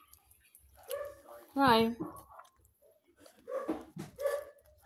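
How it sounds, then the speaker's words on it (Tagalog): Dogs waiting to be fed let out a few yelps and whimpers, with one louder whining bark in the middle, mixed in with a voice talking to them nearby. "Nag-atang akong mga doggy dogs oh."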